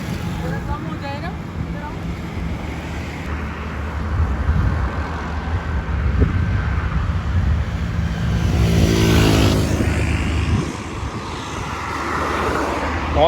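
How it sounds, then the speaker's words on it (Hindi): Road traffic heard during an evening walk in a town street: a steady rumble of passing cars and motorbikes that swells as a vehicle goes by nearby, with people talking over it. "बहुत ट्रैफिक है अभी भी।"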